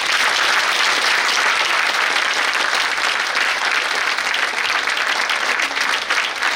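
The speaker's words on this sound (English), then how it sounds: "give them a really strong," A large audience at a school annual day celebration claps loudly and continuously, a dense, even wash of applause that holds steady from start to finish.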